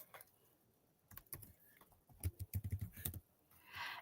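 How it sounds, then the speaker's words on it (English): Computer keyboard typing in quick irregular bursts of soft key clicks, close but quiet, with a short gap and a brief rustle at the end. "I am going to type"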